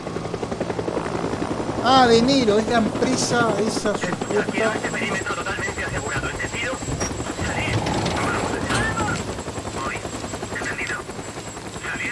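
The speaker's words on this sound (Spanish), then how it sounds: "Y un helicóptero grande" Large helicopter in the Days Gone game world, a steady rotor thrum running through the whole stretch beneath someone talking over it, with a short melodic burst early on.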